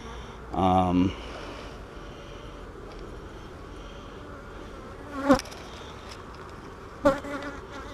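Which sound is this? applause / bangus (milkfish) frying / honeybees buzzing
honeybees buzzing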